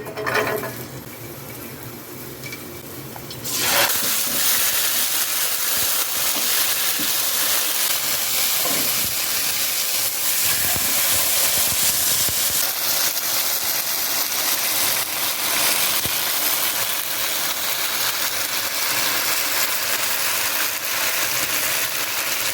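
Roughly chopped garlic cloves hit a teaspoon of hot cooking oil, setting off a loud, steady, close sizzle that starts after a few quieter seconds and hisses on without a break.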